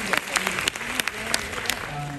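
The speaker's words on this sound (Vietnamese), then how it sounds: "Chúng ta vỗ tay cho đạo diễn Trấn Thành." Audience at a Vietnamese show or event applauds director Trấn Thành, a short burst of steady clapping from a crowd, moderately loud, with a voice speaking over it.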